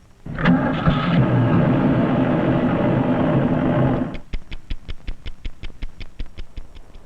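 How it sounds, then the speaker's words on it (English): A cold car engine at 11 degrees, running on Shell Fire and Ice all-season motor oil, gives a loud sustained whirring grind, then settles into a steady rhythmic chugging idle of evenly spaced pulses. "we're going to try to start it to show how Shell Fire and Ice all-season motor oil helps your engine crank up fast"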